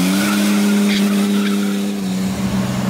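A VW Amarok pickup swapped with a BMW straight-six engine launches hard, giving a loud, sustained tire squeal over a steady engine drone that lasts throughout.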